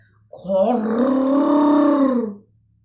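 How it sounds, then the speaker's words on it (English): A lion's roar in a storybook setting: a single loud, sustained, growling roar lasting about two seconds that swells and then fades, heard alone without talk. "the roar of a lion"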